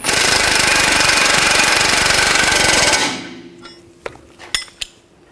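A loud power tool, likely an impact wrench, hammers steadily for about three seconds, tightening a bolt on the rear lower control arm of a 2009-2017 Volkswagen Tiguan, then stops, followed by a few sharp metallic clinks and taps.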